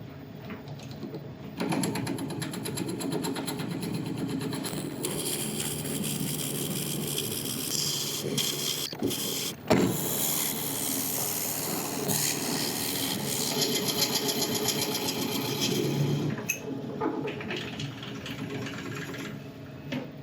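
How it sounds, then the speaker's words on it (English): Boxwood being hollowed on a lathe with Forstner bits, a steady grinding, rubbing whir that runs continuously and close, with a brief sharp clunk partway through and no talking. "that's nicely hollowed out with the Forstner bits"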